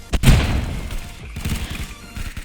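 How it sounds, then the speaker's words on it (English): Rapid submachine gun spam fire in a Roblox shooting game, a dense burst of muffled repeated shots with a heavy thump near the start, fairly loud and continuous. "SMG spam"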